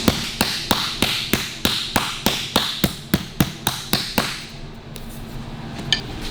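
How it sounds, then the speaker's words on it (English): Hammer blows on a dolly shaping a curved sheet-metal repair patch: about fourteen sharp, evenly spaced metallic taps, close and loud, followed by a brief pause and a couple of softer knocks. "So now we'll put a bit of curve in it that way, a bit of curve in it that way, just on a hammer and dolly."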